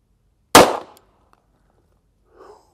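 A single sharp gunshot from a .45 ACP pistol with a 4-inch barrel fired into ballistics gel, loud and close, decaying quickly into near silence with a faint trailing sound afterward.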